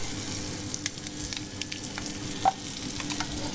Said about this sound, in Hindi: बहुत सारे बटर में अब ये एग बनेगा